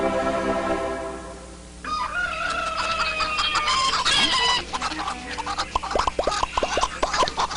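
Hens cluck busily in a television egg advertisement for Campo Fresco and Clover Brand, with a rooster crowing early on and quick, close clucks piling up toward the end.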